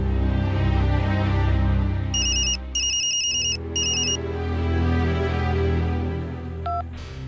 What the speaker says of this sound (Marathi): अरे फोन घे ना. कट काय करतोयस?